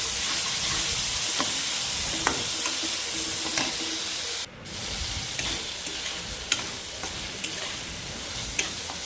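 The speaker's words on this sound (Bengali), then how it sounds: "পেঁয়াজের সঙ্গে মশলাটাকে খুব ভালোভাবে মিশিয়ে নিতে হবে।" Onions fry in a pan with powdered spices stirred in for a chicken curry, a steady close sizzle with occasional spoon taps and scrapes, a brief dip midway, no talk.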